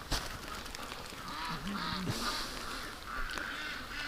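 A Muscovy duck loose outside its pen gives a short, low honking call partway through, set against steady outdoor background noise.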